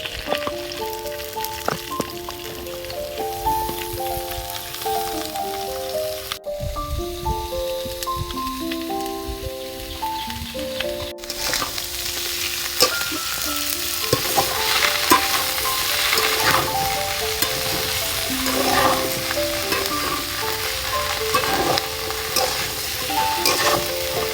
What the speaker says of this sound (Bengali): দেখো পেঁয়াজ কলিটা দিয়ে একটু নাড়িয়ে নিয়েছি